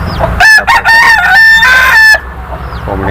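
In a poultry shed, a rooster crows loudly and close by in a long, strained call, with hens clucking softly before and after.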